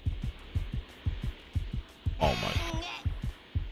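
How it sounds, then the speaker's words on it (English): Game heartbeat effect in Dragon Ball: The Breakers, a loud, steady double-thump pulse repeating about every third of a second throughout, with a brief burst of in-game noise and a short spoken exclamation partway through. "I hear the heartbeats."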